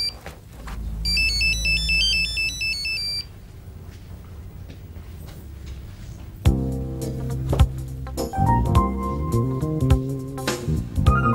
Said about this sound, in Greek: Το κινητό μου.